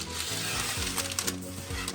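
Gnocchi sizzling in a pan on a cooktop that has been switched off, a soft crackle with scattered pops and a few light scraping or tapping sounds, close by and without speech.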